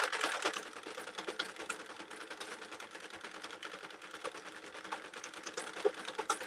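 A hand-cranked 48-needle sock knitting machine clatters in a quick, even rattle of needles and latches, faint and continuous with no voices.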